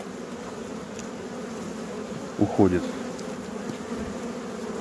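Honeybees drone steadily at a horizontal hive, a constant close buzz with someone speaking briefly over it midway.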